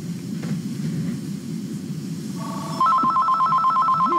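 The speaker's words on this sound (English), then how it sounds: "I got to answer the phone now" A telephone starts ringing partway through, its electronic bell tone steady and fairly loud over a busy room murmur of voices and low background noise.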